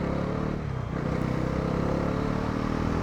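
A Bajaj Pulsar NS400Z motorcycle with a buzzing fault is throttled, giving a loud, continuous close-up engine drone with a rattly buzz that stays steady throughout.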